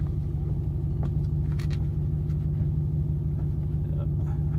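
A Ford Mustang GT fitted with SSS Terminators exhaust idles close by with a steady, deep, throbbing rumble that holds an even pitch throughout, plus a few faint clicks.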